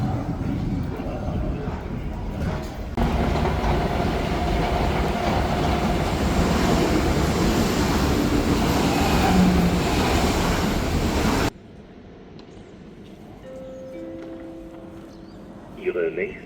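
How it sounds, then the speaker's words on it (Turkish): A passenger train rolling into a station in Germany, with a loud sustained rumble and rail noise that cuts off abruptly, leaving quieter platform ambience with faint tones and voices. "Trenimiz geldi."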